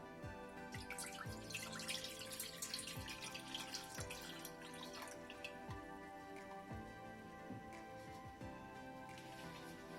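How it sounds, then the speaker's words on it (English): Milk poured into a pan set on medium-high heat for kulfi, a steady liquid stream with soft dripping and splashing throughout, close and fairly quiet, with no talking. "And into the pan, I'm adding the milk."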